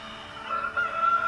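Chickens and a rooster on a poultry farm, with a sustained crow rising over a steady bed of clucking and farmyard noise.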